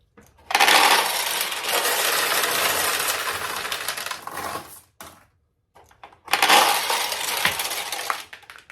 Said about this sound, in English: the balls will flow from the upper hopper to the middle hopper until the middle hopper has enough balls in it